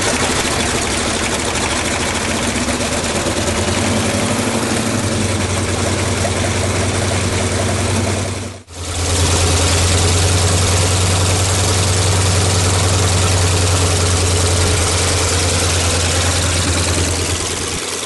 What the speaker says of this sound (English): is a Sukhoi 26Mx that's been upgraded to a Venyev M14PF engine, which is a higher performance engine